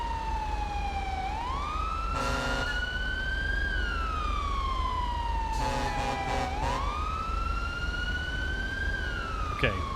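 A police siren in GTA V, wailing in long rising and falling sweeps with brief bursts of a harsher yelp tone between them, loud and steady for the whole stretch over a low engine rumble.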